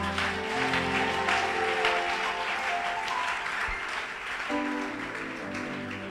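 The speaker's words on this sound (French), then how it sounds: "Si tu es d'accord avec ça, acclame Jésus." A church congregation applauds during a worship service, steady sustained clapping heard over organ or keyboard chords.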